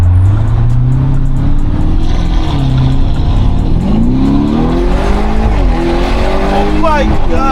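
Loud and close from inside the cabin, a Lamborghini Urus accelerates hard, its engine roar rising and climbing through gears, with exhaust pops near the end and voices reacting over the noise.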